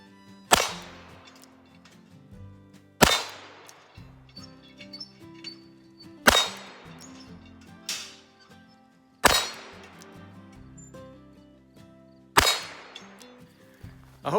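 Six sharp cracks of a Smith & Wesson 617 .22 LR revolver fired single action, each followed by the ringing clang of a steel pepper popper target, spaced a couple of seconds apart and loud.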